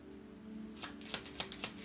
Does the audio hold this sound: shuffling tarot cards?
yes